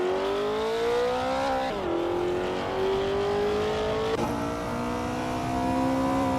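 Classic 1969 Chevrolet Corvette C3 racing in a video game, its engine revving and climbing through gears with sharp shift drops, loud and continuous without talk.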